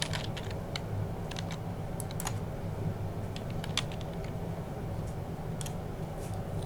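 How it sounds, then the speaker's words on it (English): A computer keyboard is typed on while entering an author name in a document, with quick bursts of light, irregular clicking keystrokes over a low steady background hum. "You will type in your author name."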